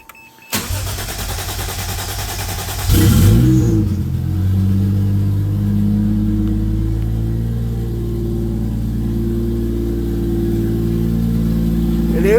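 Toyota Supra engine cranking and firing up, then settling into a loud, deep, steady idle with a slight rise in revs, close by with no talking.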